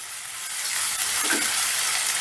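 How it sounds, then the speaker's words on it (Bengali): Sliced onions fry in hot oil over a medium gas flame, browning for an omelette curry, with a loud, steady close sizzle and a faint stirring scrape partway through. "এবারে গ্যাসের আঁচটা মিডিয়ামে রেখে পেঁয়াজটা আমি বেশ লাল লাল করে ভেজে নেব"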